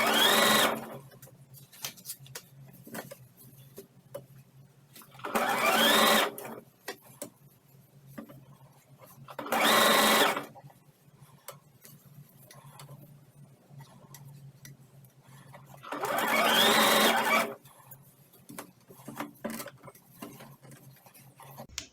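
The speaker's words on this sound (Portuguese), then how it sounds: "Que a gente vai costurar agora só a perna." A sewing machine runs in four separate bursts, the last one longest, stitching the leg of a fabric baby elephant pillow, with faint clicks and quiet pauses in between.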